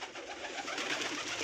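Pigeons in a loft give soft, low cooing calls, a continuous murmur of several birds at moderate distance, fairly quiet with no talk.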